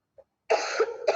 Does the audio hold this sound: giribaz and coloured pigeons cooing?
no